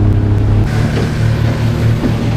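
Motorboat engine running at about 3,000 to 4,000 revs on a trip out to scallop beds, a loud close steady low drone with humming harmonics and wind and water noise, no talk.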